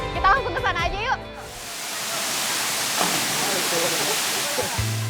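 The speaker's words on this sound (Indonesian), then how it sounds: "Wah, akhirnya sampai juga di air terjun Putri Kayangan." The Putri Kayangan waterfall pours with a strong flow, a broad loud steady rushing roar that takes over after a brief burst of voices at the start and carries on alone.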